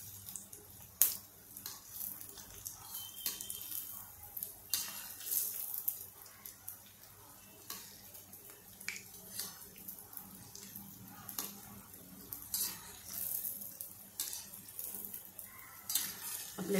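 Funugulu, an Andhra street snack, fry quietly in a pan while being flipped, with faint sizzling and repeated light clinks and scrapes of a utensil against the pan.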